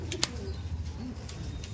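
A Giribaj Kaldom pigeon gives a soft, brief coo close by, faint against a quiet background.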